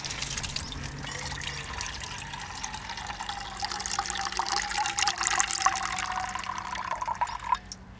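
Water is poured in a continuous trickling stream, a faint, close splash with fine dripping texture that holds steady and then stops abruptly near the end.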